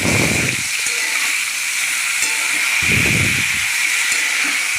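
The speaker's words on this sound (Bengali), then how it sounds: "দিয়ে ভালো করে নাড়াচাড়া করতে থাকলাম আমগুলোকে ভালো করে ভাজতে থাকলাম" Mango pieces frying with bay leaf in hot oil for a sweet-sour-spicy pickle, a loud, even hiss throughout with two brief low rumbling stirs, close and uninterrupted by voices.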